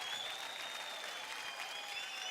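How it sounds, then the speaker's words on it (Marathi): Studio audience bursts into applause after a dance performance on a Marathi TV dance competition show, a steady, dense clapping throughout, heard alone and somewhat subdued in level. "जोरदार टाळ्या होऊन जाऊ द्या"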